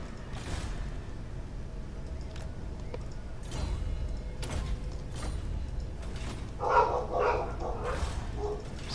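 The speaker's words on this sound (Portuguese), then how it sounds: "Cachorro full puto aqui do nada." Angry dog barking in a Total War: Warhammer II game, a few short sharp barks and yips scattered over a busy, noisy game soundscape.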